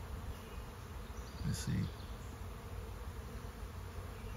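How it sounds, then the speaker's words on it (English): A few bees fly around after a swarm has landed, a faint continuous buzz under outdoor noise, with a brief low voice speaking in the middle. "there's still a few bees flying around, and they're orientating"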